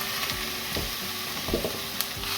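Ground beef mince browning in a pan, giving a steady close sizzle broken by a few soft scrapes and taps as it is moved around.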